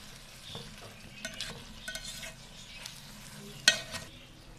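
A spoon scrapes and stirs chicken with mash dal in a pot, soft irregular scraping strokes with a faint sizzle underneath and one sharper clink near the end.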